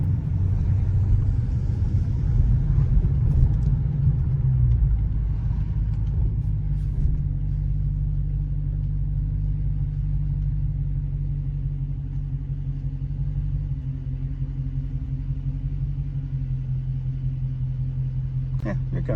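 A six-speed manual car pulls up and parks, its engine a steady low rumble that settles toward idle, heard close from inside the cabin with people talking over it.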